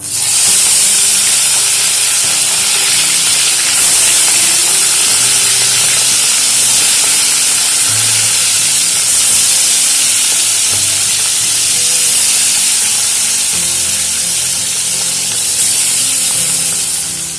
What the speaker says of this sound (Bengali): এবারে একে একে মাছগুলো ভেজে নেব।